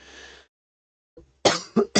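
After a brief pause, a person coughs three times in quick succession, close and loud.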